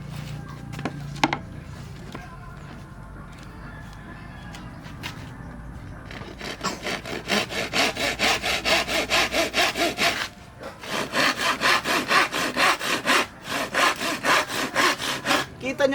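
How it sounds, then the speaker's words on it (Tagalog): A hand saw cuts slowly through a curved wooden frame with a glossy second coat of finish, in steady back-and-forth rasping strokes. The strokes begin after a quiet stretch and pause briefly midway. "dahan-dahan lang yung aking paglalagari kasi iniingatan ko talaga na magasgasan siya"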